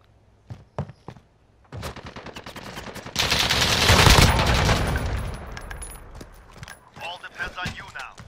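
Light machine gun fire rattles in a Call of Duty: Modern Warfare 2019 gunfight, scattered shots first, then a long sustained burst of rapid rounds, loud and close, with more fire trailing off.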